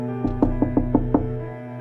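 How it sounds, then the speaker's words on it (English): Six knocks rap on a door in an irregular rhythm, fairly close and moderately loud over a steady low hum, with no talking. "Almost on cue, there's a knock at my door."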